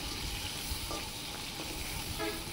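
Chicken pieces for biryani sizzle in hot oil as they brown, a steady dense frying hiss that runs unbroken throughout with faint clinks of stirring.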